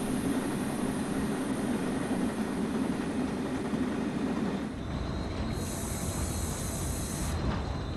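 A video-game passenger train with gallery cars rumbles past in Train Sim World 5 with steady rolling noise and hiss, followed by a high-pitched squeal near the end; no talking.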